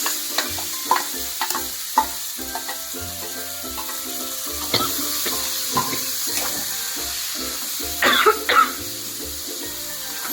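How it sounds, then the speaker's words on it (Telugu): Onions and green chillies fry in the same pan that just browned dry fish for an egg curry. A steady sizzle carries repeated spatula scrapes and stirs, with an occasional cough or throat clearing nearby. "సో ఇప్పుడు అదే ప్యాన్లో ఆనియన్స్ ఇంకా గ్రీన్ చిల్లీ వేసుకొని బాగా ఫ్రై చేసుకోవాలి."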